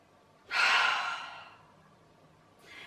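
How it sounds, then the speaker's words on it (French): A slow, deliberate breath during a yoga wake-up session: a long, airy exhale through the mouth that fades out over a second, then the start of another soft breath, close and quiet. "Par le nez, j'inspire. Et par la bouche."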